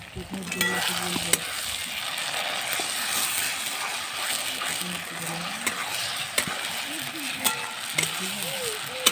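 Spice paste for chicken fries in a pan with a constant hiss, while a metal spoon stirs and scrapes against the pan, knocking several times over the steady sizzle.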